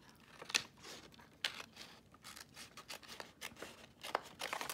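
Scissors cut through a sheet of paper from a craft journal: several crisp, quiet snips with faint rustling between them, close by and without speech.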